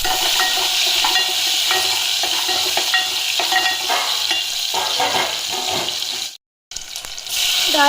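Cumin seeds frying in hot oil for a dal tempering, done in the same pot the dal was cooked in, with a steady close sizzle and stirring throughout and a brief silent gap near the end.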